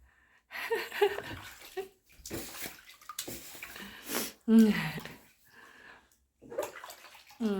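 Water splashes and runs over feet being rinsed after playing at a pool, in uneven bursts with voices talking and exclaiming over it.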